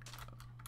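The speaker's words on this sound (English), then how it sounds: "I don't know if you can hear my keyboard now." Computer keyboard typing: a few quick, faint key clicks in a short burst over a low steady hum, with no voices.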